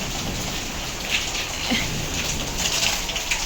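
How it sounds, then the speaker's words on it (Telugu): Steady, dense rain falls continuously, a constant hiss of drops with no voices. "వాన వస్తుంది కదా డల్ డల్ అవుతుంది పనిగా పాపం"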